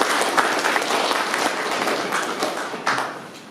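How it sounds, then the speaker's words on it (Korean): An audience at a lecture applauds warmly, a dense patter of many hands clapping steadily and gradually tapering off. "다시 한번 뜨거운 박수 부탁드리겠습니다."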